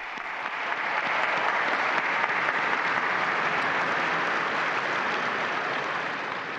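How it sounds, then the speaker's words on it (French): Sustained applause from a large crowd of pilgrims at an outdoor papal Regina Caeli gathering, rising quickly and holding steady and dense throughout, with no talk over it. "un grand applaudissement pour toutes les mamans"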